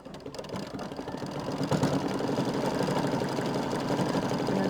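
Embroidery sewing machine stitching two little stars on a quilt block, a fast, steady mechanical chatter close by that grows slightly louder and runs on without a pause.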